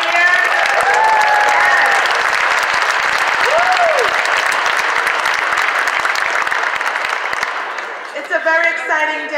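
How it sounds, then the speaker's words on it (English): A crowd claps loudly and continuously at an Advocacy Day speech event, with whoops and cheers on top and a few voices calling out, before the applause breaks off near the end. "Can we take a moment to just clap for being here?"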